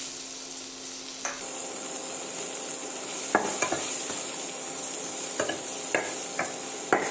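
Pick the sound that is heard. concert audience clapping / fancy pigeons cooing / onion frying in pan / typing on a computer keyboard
onion frying in pan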